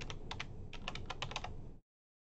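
Rapid keystrokes on a computer keyboard entering a username and password for a school community web portal login, a steady run of close, crisp clicks lasting under two seconds before cutting to silence.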